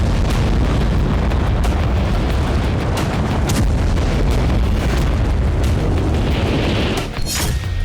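Bomb explosion sound effect, a dense continuous rumble of heavy booms and bursts, loud and sustained throughout before cutting off near the end.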